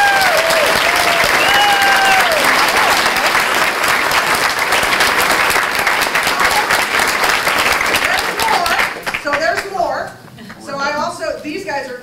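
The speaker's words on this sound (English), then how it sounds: "And really, a big round of applause." A big round of applause fills a school board meeting room, sustained dense clapping for about nine seconds before fading out as a voice begins speaking over the quieter room.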